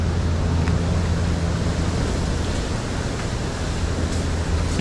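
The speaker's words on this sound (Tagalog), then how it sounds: "Lakas ng hangin, mga kautol." Strong wind roaring steadily as a loud, broad rush of noise with low buffeting, continuous and unbroken, no voices.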